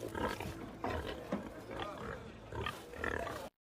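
Several pigs grunt and squeal in a pig pen in a film scene, the calls rising in repeated bursts over a dense, continuous low rumble of animal noise with faint voices mixed in.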